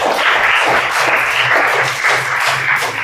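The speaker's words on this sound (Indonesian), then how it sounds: "Tepuk tangan untuk Adinda." A room full of children clap steadily and fairly loudly for a few seconds during a lesson, with no talking over it.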